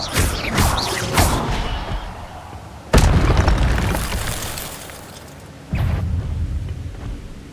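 Expelliarmus disarming spell fired in Hogwarts Legacy, giving sharp booming blasts, two strong hits spaced a few seconds apart, each decaying into rumbling debris amid loud combat effects.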